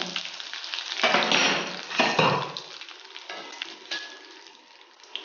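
Dried red chilies, mustard seeds and curry leaves crackle and sizzle in hot oil for a Kerala pumpkin erissery, with bursts of spattering and a stirring scrape against the pan, fairly close and steady.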